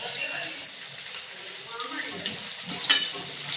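Fish pieces coated in gram flour and semolina fry in hot oil, giving a steady, moderately quiet sizzling hiss with small crackles and one brief louder pop.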